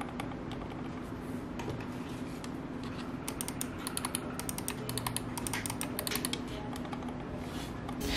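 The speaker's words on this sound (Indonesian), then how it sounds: "Jadi kalau kita klik itu suaranya lebih empuk, dep gitu" Clicking on an Armaggeddon silent-click gaming mouse, a soft, muted run of quick clicks over steady low background hum, with no talking.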